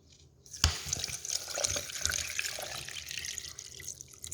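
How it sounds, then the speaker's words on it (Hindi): Chilled water pours into a container of pineapple punch mixture with lemon juice, a steady splashing stream that starts abruptly after a brief hush and runs on with soft gurgles and drips, fairly quiet and close. "पानी ठंडा ऐड कर दिया है, चिल वाटर है"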